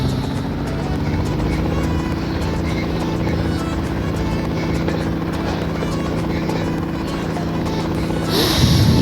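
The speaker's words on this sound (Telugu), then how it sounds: "ఇప్పుడు టెస్టింగ్ ఏంటంటే హెలికాప్టర్ తీసుకోవాలి" A helicopter in the Indian Bike Driving video game drones with a steady, loud rotor and engine hum throughout, ending in a brief rushing burst near the end.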